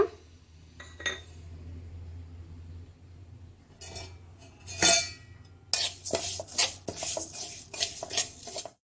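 Flax seeds fried in a pan for a flax seed chutney powder, heard as clinking and scraping of a utensil against the pan, with sporadic knocks early and then a busier run of metallic stirring and rattling near the end.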